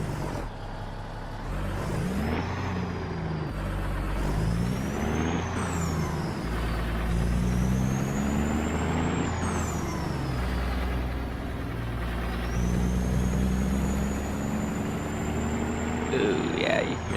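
A heavy truck in a modded trucking video game, part of a convoy leaving Bozeman, Montana, gives off high rising and falling whistles over a continuous deep engine rumble throughout.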